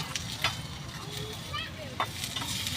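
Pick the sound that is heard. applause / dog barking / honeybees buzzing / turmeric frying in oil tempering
turmeric frying in oil tempering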